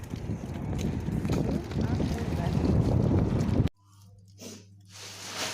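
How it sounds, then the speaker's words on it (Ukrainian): Loud gusting wind roars against the microphone for several seconds, then drops off abruptly, leaving quieter outdoor sounds with a low hum. "Дуже сильний вітер."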